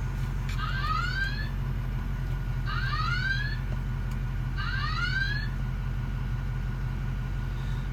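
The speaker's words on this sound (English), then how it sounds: "And I silenced the alarm." Three rising electronic chirp sweeps from a hydrocarbon detector alarm, evenly spaced about two seconds apart over a constant low rumble of engine-like background noise.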